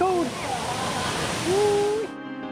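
Kung Si Waterfall in Luang Prabang, Laos, pours as a steady, broad rush of water, with voices and excited exclamations heard over it.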